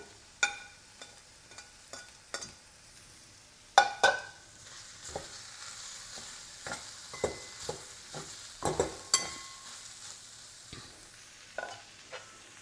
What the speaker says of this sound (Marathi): कोथिंबीर घालायची राहिली, आपण कोथिंबीर घालून घेऊया.